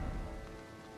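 Steady rain pours down in the video game Elden Ring, a dense, even hiss of drops pattering on surfaces across the whole second with no talk.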